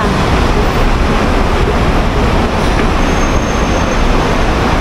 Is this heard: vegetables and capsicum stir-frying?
no